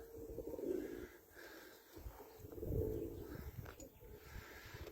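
Soft, low cooing from young pigeons repeats in throaty bursts, close by, with faint wheezy and rustling sounds in between.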